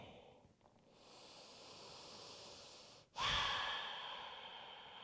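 A long, soft exhaled breath during a yoga stretching practice, with a gentle airy whoosh that swells and then tapers off, close and quiet with no talking.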